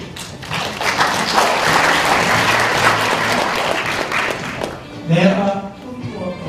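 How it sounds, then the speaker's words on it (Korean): An audience at a Korean event gives a speaker a welcoming round of clapping, a loud, full burst that builds quickly and holds, with a voice talking over it near the end. "마지막으로 백석환 삼성농장 대표님 큰 박수로 맞이하겠습니다."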